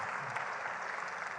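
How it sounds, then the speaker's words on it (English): An audience at a local climate action summit claps in a brief, dense burst of applause, steady and moderately distant. "We can applaud."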